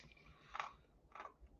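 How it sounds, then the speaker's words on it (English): Ice is chewed in two separate crunching bites about half a second apart, close and quiet, with no talking. "I chew a lot of ice."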